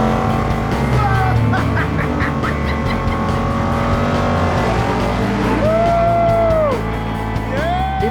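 A car drives fast and loud close by on a test drive, its engine roaring steadily while tires squeal in a few drawn-out screeches near the end.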